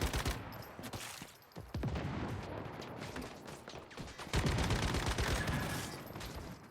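Gunfire in the survival game Once Human, a series of sharp cracks and bursts at irregular intervals among clattering action sounds, fairly close and moderately loud.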